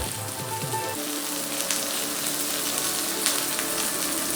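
Chilli powder and spices sizzle in a hot pan for chana masala, a steady close frying hiss with faint crackles and no voices.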